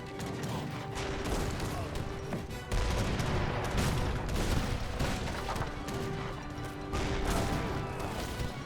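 Dense, continuous battle noise of heavy cannons firing in Age of Empires 3, booming shots and crashes overlapping without pause, loud and rough throughout, with no voices.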